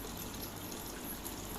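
Aquarium water spills steadily down a gutter waterfall into a piped sump filter setup, a faint continuous trickling gush with no breaks.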